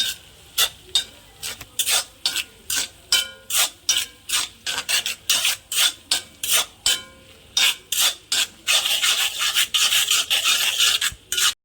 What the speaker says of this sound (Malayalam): മസാലപ്പൊടി ഇപ്പം നന്നായിട്ട് ആ നടുക്ക് ഭാഗം മാത്രം നല്ലപോലെ നമുക്കൊന്ന് ഇളക്കി കൊടുക്കാം